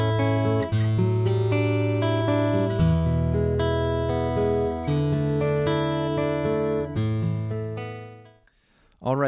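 Acoustic guitar played through a Skysonic PRO-1 with its mic and magnetic pickup blended together, a steady run of chords and melodic picking, close and warm, ending with the strings fading and a short handling noise.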